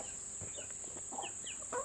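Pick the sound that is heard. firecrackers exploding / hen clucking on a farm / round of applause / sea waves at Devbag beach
hen clucking on a farm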